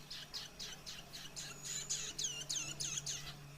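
A ciblek kristal songbird chirps in a quick series of bright, rhythmic tweets, close and clear, growing busier toward the end over a faint low hum.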